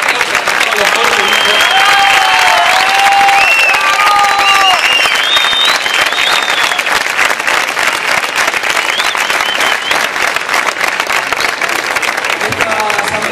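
A crowd at a public assembly in Buenos Aires claps loudly and steadily, with cheers, whistles and shouting voices layered over the dense applause throughout.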